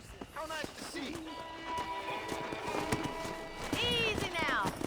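Horse hooves clip-clop in the western video game Red Dead Redemption (2010), a steady walking rhythm under character dialogue and a soft musical backing.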